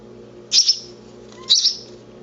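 Young sparrow chick with pin feathers coming in gives two loud, sharp high chirps about a second apart, each with a brief trailing tail, over a faint steady low hum.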